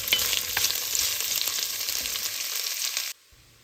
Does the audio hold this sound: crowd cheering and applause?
no